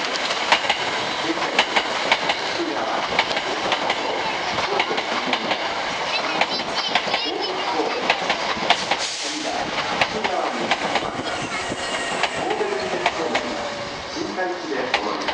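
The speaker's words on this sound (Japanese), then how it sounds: "まもなく2号線に電車が到着します。" A Hankyu 7000 series limited express bound for Shinkaichi pulls into Nishinomiya-Kitaguchi station with a loud, steady rolling rumble and wheel clatter for the whole stretch. A platform announcement voice and a few birds sound faintly behind it.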